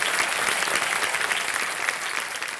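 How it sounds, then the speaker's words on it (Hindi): A studio audience on the KBC quiz show claps in a sustained, dense round of applause that stays loud throughout and tapers only slightly at the end. "तालियों के साथ इनका स्वागत किया जाए।"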